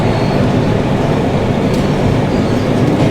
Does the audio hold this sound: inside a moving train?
yes